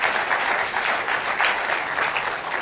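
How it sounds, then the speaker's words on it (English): An audience at a conference opening ceremony applauds in a steady, dense wash of clapping that carries on without letting up. "please, a wonderful round of applause"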